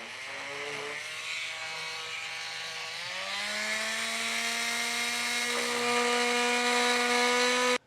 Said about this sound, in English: When it gets to the plastic, if you have a Dremel, or I use a multi-tool that works really well,